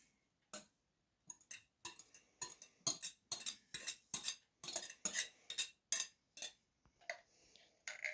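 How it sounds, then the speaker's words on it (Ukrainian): Quiet repeated scraping and clinking as grated zucchini, carrot, garlic and onion are transferred into a deep bowl, in short irregular strokes with no talking. "в глибоку миску пересипаємо все"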